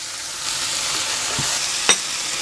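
Zucchini and bok choy stir-fry in a hot pan with a little salt, a steady close hiss of sizzling with a couple of brief clinks and scrapes of stirring.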